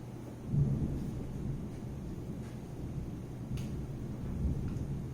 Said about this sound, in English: Is this storm scary for you?